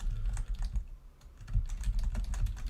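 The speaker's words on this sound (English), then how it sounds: "You guys are going to hear typing." Fingers type on a computer keyboard close to the mic, a busy run of clicky keystrokes with thudding low taps and one brief lull in the middle, with no one talking.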